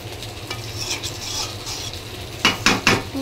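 Cooking pot covered while fish fries nearby, steady sizzling with soft stirring scrapes, then a few sharp metallic clanks of a lid being set on, close and moderately loud, no talking.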